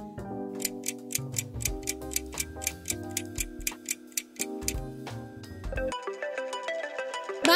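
A bright electronic phone alarm melody rings in repeated short beeping phrases with a ticking rhythm, then shifts into a denser, louder chiming pattern near the end.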